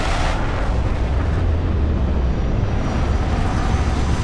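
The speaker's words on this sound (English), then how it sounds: "Landing struts primed, retros firing." A spaceship in Starfield sets down with its retro thrusters firing, a loud, steady roar of rumbling thrust that stays dense and unbroken the whole time, with no voices.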